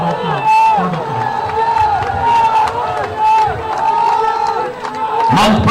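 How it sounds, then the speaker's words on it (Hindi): A large crowd at a BJP rally in Dabra cheers and applauds in a loud, continuous roar, with shouting voices rising and falling and a sharp burst of cheering at the end. "हमें जोरदार तालियों से वापस से भारत का स्वागत करें।"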